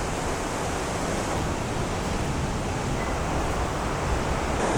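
Dawson Falls on Mt Taranaki heard from a higher viewpoint, a steady, moderately loud hiss of falling water that stays even for the whole few seconds, with no talking.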